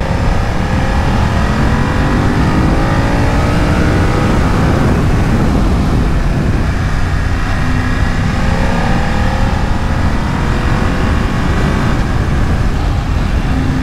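BMW F900R or Kawasaki ZX-6R motorcycle engine roaring steadily while riding, loud and continuous with rising and falling revs and wind rush throughout.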